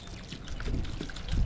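A water-soluble Master Blend fertilizer mix is poured from a container into fig tree pots, producing a soft, quiet trickle and splash that builds toward the end.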